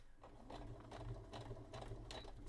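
Sewing machine stitching a cosplay costume, running in steady bursts with a fast mechanical rhythm, close and clear, with brief pauses between runs and no talking.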